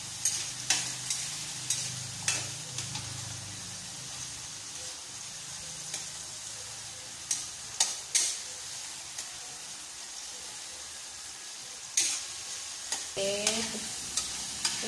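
Tomatoes sauté in a pan with a soft steady sizzle, punctuated every second or two by sharp scrapes and taps of a spatula stirring; faint and close, with no talking.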